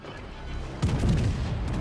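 Naval gunfire in a World of Warships-style game: a heavy broadside boom lands just under a second in, followed by a rolling, rumbling tail of further low blasts against a steady engine drone.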